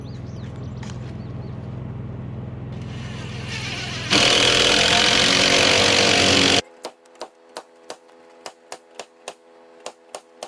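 A power drill with a long stack of magnetic bit extenders driving a fastener into a Douglas fir post, a loud steady whine for several seconds that cuts off, followed by a run of sharp rhythmic clicking taps.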